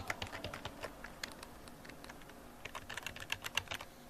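Fingers tap steadily on a computer keyboard while entering data, a close, irregular patter of light plastic key clicks with brief pauses between short runs, alone without any voices.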